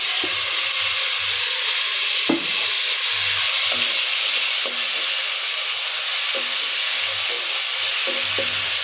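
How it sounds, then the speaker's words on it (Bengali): Chopped prawns fry in hot oil with a steady hiss and sizzle, broken by scattered spattering pops and occasional stirring clacks, no voices. "এখন দিয়ে দেই, ভাজি করে নিই চিংড়ি মাছটাকে একটু তেলে।"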